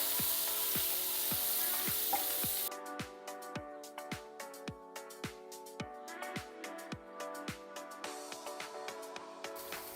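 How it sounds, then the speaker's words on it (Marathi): Chopped onion sizzles in a hot pan as the base for egg butter masala, a loud steady fry that gives way to a run of regular metallic spatula scrapes and taps over a softer sizzle. "आता यामध्ये घालूया चिरलेला कांदा परतून घेऊ नीट"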